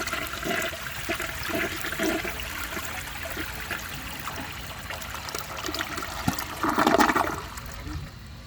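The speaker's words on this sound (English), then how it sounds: "For the first flush test, let's see how it flushes with a dry bowl." A 1937 Standard Madbrook toilet flushes with a dry bowl, a long rushing swirl of water close by, surging loudly before draining away into a gurgle.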